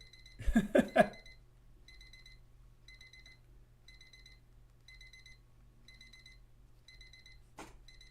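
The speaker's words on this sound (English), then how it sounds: "I can hear someone's alarm clock going off." An electronic alarm clock beeps in a room, repeating short bursts of high beeps at a steady rhythm, faint and somewhat distant, after a brief burst of speech at the start.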